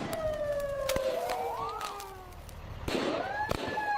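A police siren wails and sweeps up and down at a distance, mixed with sharp firework bangs and pops nearby outdoors.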